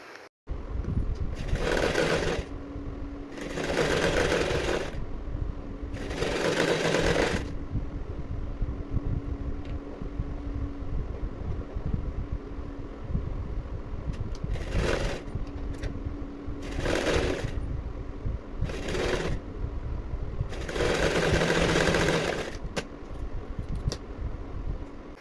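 A sewing machine stitches blouse main fabric and lining together in several bursts of steady whirring, each a second or two long, separated by pauses and lighter low hum, close and clear with no talk.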